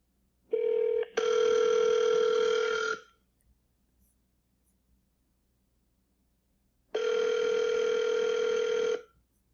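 Outgoing call ringback heard over speakerphone, two loud electronic ring tones each about two seconds long separated by a long quiet pause, close and clear with no talking.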